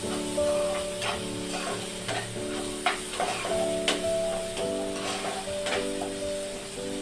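Onion and tomato sizzle in a pan for dry bombil masala, with a steady crackling fry broken by irregular spatula scrapes and taps, under a faint sustained tonal hum.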